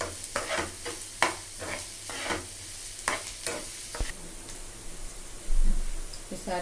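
Onions sizzle and fry with salt in a pan while being stirred, with repeated scraping and clinking strokes over a steady background hiss, close and moderately loud.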